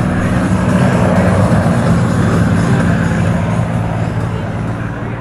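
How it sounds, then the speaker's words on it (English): A P-51 Mustang propeller fighter takes off at an air show, its loud, sustained engine roar filling the air with a broad, steady drone that fades slightly toward the end. "the P51 Mustang taking off"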